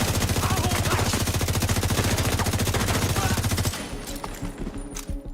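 Rapid automatic gunfire from The Division video game, set in Brooklyn, rattles in a loud, continuous stream of shots for several seconds before abruptly cutting off, leaving scattered faint clicks and game ambience.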